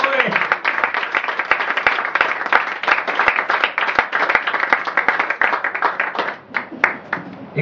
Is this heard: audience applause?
yes